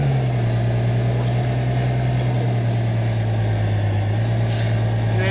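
The Cat engine of a 2011 BlueBird Vision school bus runs steadily with a deep, continuous hum and vibration. It stays loud and even throughout, with no voices over it.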